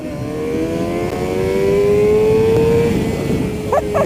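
A Suzuki GSX-R 600 motorcycle engine under way, steady and loud with a rising whine that climbs in pitch, then brief gear-change chirps near the end and faint wind rush throughout.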